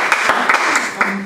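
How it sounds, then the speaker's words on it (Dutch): Audience applause at a Dutch community cycling-day gathering, a short burst of clapping with distinct hand claps standing out, mixed with a little chatter. "Applaus"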